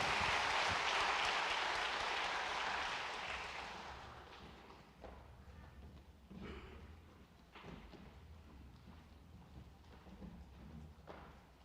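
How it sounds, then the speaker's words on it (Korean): A church congregation at a Sunday service gives a big round of applause, a dense, loud burst of clapping that fades over about four seconds into quiet room noise with scattered thumps. "큰 박수로 격려하시겠습니다."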